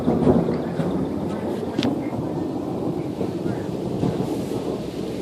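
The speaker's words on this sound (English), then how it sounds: "Lightning strike right in front of me." Rumbling thunder with steady rain during a severe thunderstorm with a storm warning in Winfield, Kansas, a continuous loud wash with one sharper crack near the middle, recorded close by with wind buffeting.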